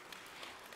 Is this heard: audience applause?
yes